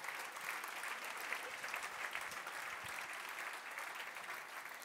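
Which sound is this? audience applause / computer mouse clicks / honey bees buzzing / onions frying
audience applause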